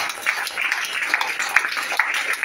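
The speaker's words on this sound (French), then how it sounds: "élever vos ovations et vos applaudissements pour notre Papa Bishop" Church audience applauding for a bishop, a steady dense patter of many clapping hands at moderate distance with small swells, no voices over it.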